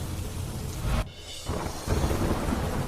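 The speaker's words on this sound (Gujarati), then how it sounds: "વરસાદ અવિરત ધીમી ધારે વરસાદથી ખેડૂતો ખુશખુશાલ" Steady rain falls over Gujarat villages during the monsoon, with a broad rumble of thunder that briefly drops away and returns, loud and continuous, and no voices.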